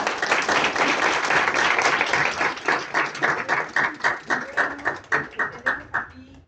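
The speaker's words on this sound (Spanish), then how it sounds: "Y le damos aplausos." A conference audience applauds a guest speaker. Dense, loud clapping at first thins into a few rhythmic, distinct claps that fade toward the end.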